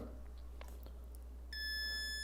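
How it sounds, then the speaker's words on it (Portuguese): A steady high electronic beep from a circuit tester applied to a capacitor starts abruptly and holds continuously, over a low electrical hum. "Você deve estar escutando o bip constante"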